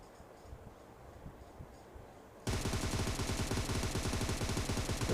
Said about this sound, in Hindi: इस बंदे को मैंने फायर तो किया